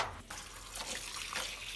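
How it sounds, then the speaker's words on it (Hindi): Tap water pours steadily into a tub filling with clothes and detergent powder for hand washing, a close, continuous splashing gush with no talk. "इसको रख देते हैं नीचे और चला देते हैं पानी"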